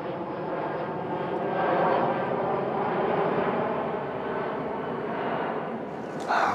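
Propeller airplanes drone overhead above the wild Rhône countryside, a steady broadband engine roar that swells around the middle and holds loud for the whole stretch with no talk.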